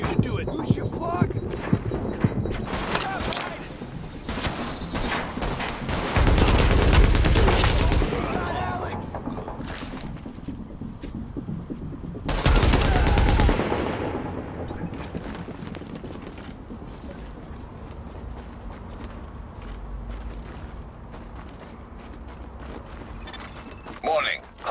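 Gunfire in the video game The Division, with loud bursts of shots around six to eight seconds and again near twelve to fourteen seconds, set over a steady game backdrop with voices talking throughout.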